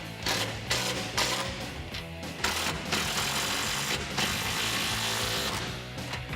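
A ratchet with a 13mm socket tightens the side step bar support bracket bolts on a 2009-2018 Ram pickup, giving a close, continuous run of quick ratcheting clicks with short pauses between strokes.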